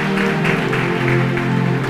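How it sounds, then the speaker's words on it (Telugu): A church audience claps together during a sermon, a steady, fairly loud patter of hands over a faint sustained musical drone. "చప్పట్లు కొట్టండి."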